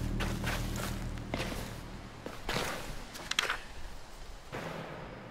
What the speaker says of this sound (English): A loud footstep.